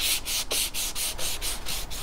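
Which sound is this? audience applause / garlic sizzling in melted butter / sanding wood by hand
sanding wood by hand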